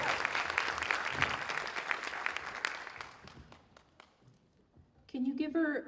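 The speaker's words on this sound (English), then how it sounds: "Can you give Erica another round of applause?" Audience applause at a Women's Equality Day gathering, a dense round of clapping that thins out and fades to scattered claps before a voice begins speaking.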